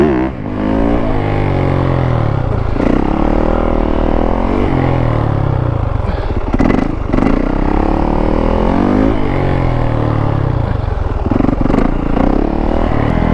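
A fuel-injected Yamaha YZ450F four-stroke dirt bike engine revs hard and close, rising and falling in repeated throttle blips over a loud idle, with no talking.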